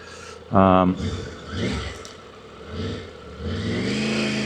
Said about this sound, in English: a bit of wheel spin there, obviously